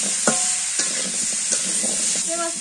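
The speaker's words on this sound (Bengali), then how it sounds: "পেঁয়াজ বাটা রসুন বাটা এটি পরে দিই, এটি আগে ভাজা নিই সুন্দর করে" Onion and garlic paste fries in a hot pan and is stirred, giving a steady close sizzle broken by a few distinct scraping strokes of the spoon.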